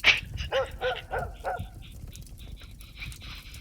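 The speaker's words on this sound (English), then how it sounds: "where'd that fucking dog come from?" A dog barks several times in quick succession, a few yips and woofs over roughly a second and a half, moderately close, then trailing off into faint background sounds in a scripted comedy scene.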